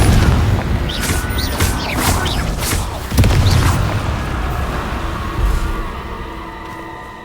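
Spell explosion from Confringo in Hogwarts Legacy: booming low bursts and crackling impacts recur through the clip, loudest near the three-second mark, layered with sparkling high magical effects and no talking.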